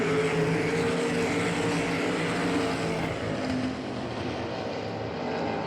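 Race cars at Hagerstown Speedway roar past in a continuous loud engine drone that fades slightly as they move away, with no talk.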